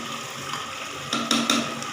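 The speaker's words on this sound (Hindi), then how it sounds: "अब मैं इसके अंदर 1 कप पानी डाल के" A cup of water is poured into browned qeema and lentils frying in ghee in a pressure cooker, making a steady watery hiss with a few louder splashing surges near the end.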